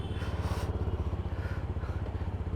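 A GPX Demon 250cc motorcycle engine runs close by with a fast, even, pulsing thump, held at a steady idle-like rhythm for a few seconds without any talk.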